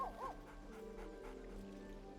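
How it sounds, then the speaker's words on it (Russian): In the Baldur's Gate 3 video game, a dog gives a brief high whimper at the start, followed by soft panting-like sounds over a quiet, low game ambience. "к нам пришел пес."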